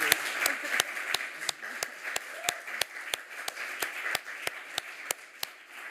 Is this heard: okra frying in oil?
no